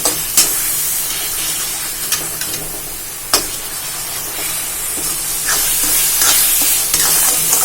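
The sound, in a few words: carrot halwa frying in ghee in a wok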